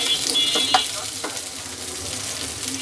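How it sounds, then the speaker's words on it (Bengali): Cut potatoes frying in hot oil, a constant close sizzle and crackle with a few sharper pops and stirring scrapes early on, no talking. "আর আমি যে আলুগুলো কেটে রাখছিলাম সেই আলুগুলো এখন আমি ভেজে নিতেছি।"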